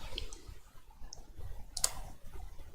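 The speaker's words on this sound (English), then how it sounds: "Okay, I hit enter." A few sharp, isolated key clicks sound on a computer keyboard as the enter key is pressed, close and distinct against a quiet room with faint low background noise.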